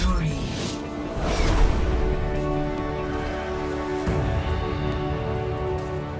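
The Overwatch victory music cue, a bold orchestral fanfare with sweeping strings and punchy hits, plays loud and continuous, with a brief voice over its start.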